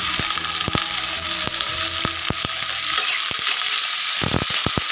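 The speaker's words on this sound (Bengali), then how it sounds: "এসব দিয়ে একটু ভালো করে একটু ভেজে নেব" Small fish with capsicum sizzle loudly in a frying pan, a dense close hiss of hot oil broken by sharp crackles and spatters, with no voices.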